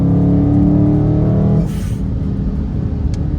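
Dodge Charger Scat Pack accelerating on a wet road, a loud, close engine growl that holds steady before easing off into a lower rumble, with a brief hiss near the middle.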